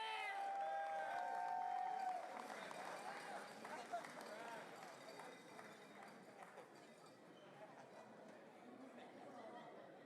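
An audience at a collegiate powerlifting nationals meet in the men's 90-100kg equipped session applauds steadily and loudly from the start, easing slightly after a couple of seconds, while someone talks over the clapping throughout.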